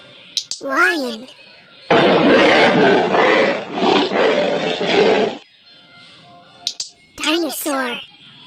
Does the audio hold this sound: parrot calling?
no